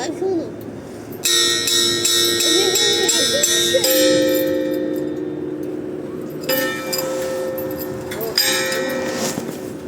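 A metal bell at a zoo struck hard several times, bright ringing strikes with long sustained overtones, loud and close, with people talking over the ringing.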